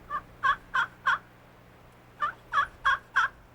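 Two bursts of turkey gobbling, four quick rattling calls each, heard at moderate distance over quiet background.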